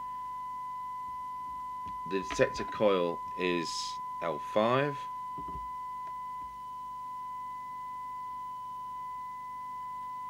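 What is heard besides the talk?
sine wave test tone from CB radio speaker during receiver alignment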